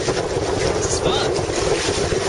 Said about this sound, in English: I am sailing on a kayak, but you would never know it was a kayak